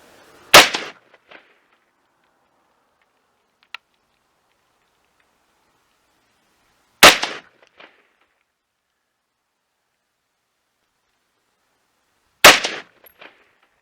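Three sharp, loud rifle shots from a 6.5 Grendel firing handloaded ammunition, evenly spaced about six seconds apart, each a sudden crack with a short echo and silence between.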